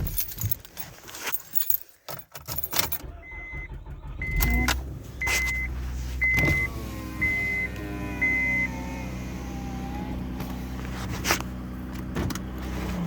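Keys jangle and a car door thumps as someone gets into a car, then the engine cranks and starts and settles into a steady idle hum, all close by with no talk.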